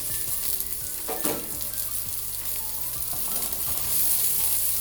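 Green onions sizzle steadily as they fry in a pan for a fish and ugali dinner, a continuous close crackle with a few stirring scrapes and no talking.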